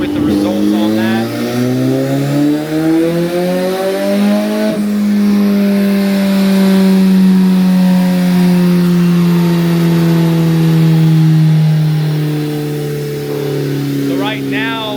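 A Kawasaki ZX-14R fitted with a stage 2 turbo kit revs loudly during tuning, its engine note climbing and sweeping through long sustained pulls nearby, with a voice talking over it.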